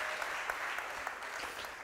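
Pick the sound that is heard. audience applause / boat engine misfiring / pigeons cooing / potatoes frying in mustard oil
audience applause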